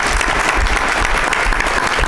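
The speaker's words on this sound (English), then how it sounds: "great round of applause for Honey Hydration" Loud, sustained audience applause after the Honey Hydration pitch at a startup incubator event, a dense close wash of many hands clapping without a break.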